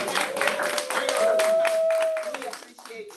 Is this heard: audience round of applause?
yes